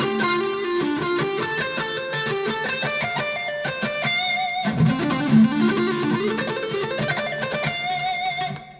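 An electric guitar plays a pentatonic blues lick at a slow pace, distinct picked notes stepping across strings with a light overdriven tone, played alone without talk.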